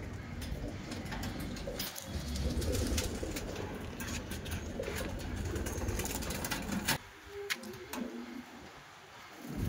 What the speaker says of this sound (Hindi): ये मेल कबूतर है, पट्ठा है